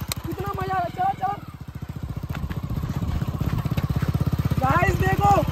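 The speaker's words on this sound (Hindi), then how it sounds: "छोटी सी बाइक चल रही है दोस्तों बिना टायर" A small motorbike running on its bare rims without tyres, its engine chugging in a steady, rapid rhythm that grows rougher and louder, with voices talking over it outdoors.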